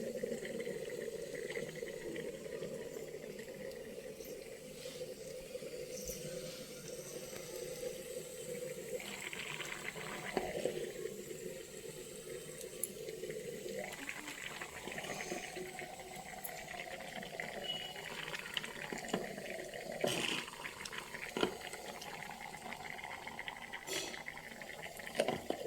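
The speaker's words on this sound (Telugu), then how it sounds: "కొంచెం పప్పు ఉడుకుతుంది," Dal boiling in a stone pot on a home kitchen stove, a steady soft bubbling and simmering hiss that runs throughout at low level, with occasional clinks and faint background noise, no one talking.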